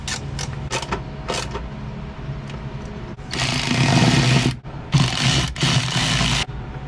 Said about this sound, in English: Now I can officially tighten these nuts right here